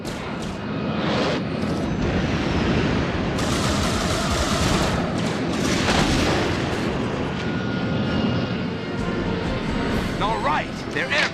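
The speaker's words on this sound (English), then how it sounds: "They're shooting closer!" Gunfire rattles through an animated sci-fi battle, with dense bursts of shots and aircraft-like roaring sustained loudly for about eleven seconds, and voices heard amid the fighting.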